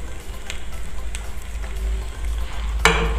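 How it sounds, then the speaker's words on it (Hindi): Four medium potatoes fry in a pan for aloo tikki pakoras, a continuous crackling sizzle over a low rumble, with a sharper burst of spattering near the end. "आपको अच्छे से इन आलुओं को भून लेना है"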